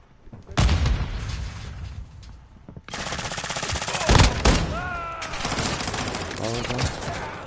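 Dense video game gunfire with rapid automatic bursts and heavy booms, loud and close in several waves, with brief gaps and some tonal effects between volleys.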